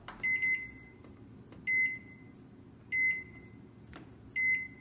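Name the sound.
microwave oven heating macaroni for one minute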